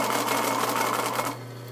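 A sewing machine runs in a fast, even stitching whir for over a second while back tacking along a seam, close and clear, then stops to a low hum.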